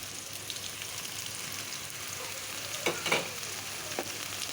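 Tomatoes and coriander sizzle and fry softly in hot oil in a pan, a faint steady crackle with a few brief louder bursts of stirring near the end.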